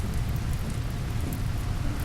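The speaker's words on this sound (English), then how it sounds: "here's the rain" Steady rain in the colony-building game RimWorld, a continuous dense hiss with a low rumbling undertone, even and unbroken, with no voices.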